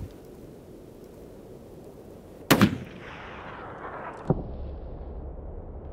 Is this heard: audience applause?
no